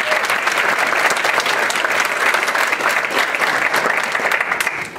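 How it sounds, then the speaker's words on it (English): A museum audience gives sustained applause for a young woman from Calvert County, dense and even clapping from a sizable crowd that stays strong throughout before easing slightly at the very end. "so please give her a applause"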